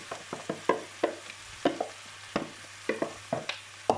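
Potatoes and zucchini for a cheese omelette are stirred in a frying pan, producing quick irregular scraping and clattering strokes over a soft sizzle, with no voices.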